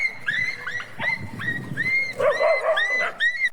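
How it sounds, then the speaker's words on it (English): A dog and wild wolves yelp and whine in a series of short, high, rising cries, several in quick succession, close and fairly loud over scuffling. "you heard that yelp at the end there"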